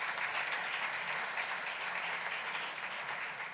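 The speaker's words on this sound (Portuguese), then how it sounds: "Para o Afonso, nós damos uma grande salva de palmas." A church congregation at Sunday Mass applauds for Afonso, a thick, even stream of clapping heard at a moderate distance, sustained and fairly quiet throughout.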